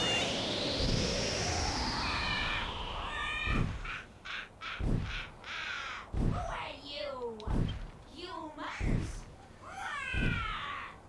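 A crow-like monster in the Dragon Quest Swords video game squawks in a series of harsh, raspy caws at irregular intervals, loud and close, with a rising whooshing effect at the start.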